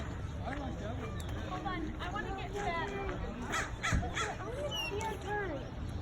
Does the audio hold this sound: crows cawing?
yes